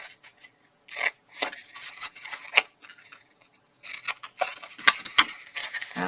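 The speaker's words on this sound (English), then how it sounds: "so now we're going to take our scissors. And up at the top here, I'm not sure how I want that to fit, so I'm just going to cut into and create a tab" Scissors snip through paper to cut a tab while making a scrap-paper stocking stuffer box, with close, crisp cuts coming in two bursts separated by a short pause.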